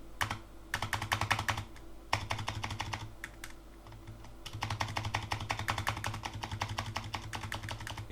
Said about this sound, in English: This has to be the keyboard that I own that has the nicest sounding Spacebar.